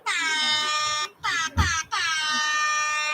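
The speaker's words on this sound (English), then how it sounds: "Where's my buzzer at?" An electronic buzzer sounds in loud, harmonic bursts, held steadily with short breaks between them and a low thump in the middle, while voices are faintly present underneath.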